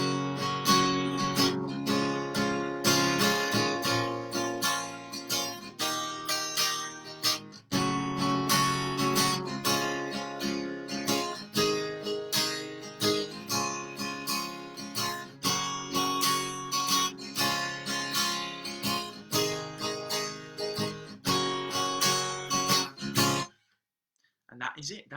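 The bridge section of a pop song is played on an instrument in a music lesson, a dense, steady run of strummed or struck chords for over twenty seconds before cutting off.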